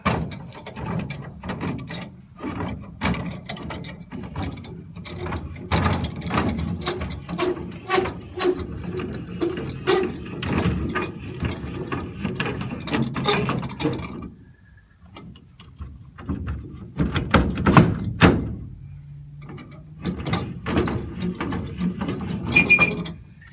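Ratchet mechanism of a jack fitted with elephant foot pads being cranked all the way down: rapid, close, loud clicking in steady strokes, a brief pause midway, then more clicking and a short metallic scrape near the end.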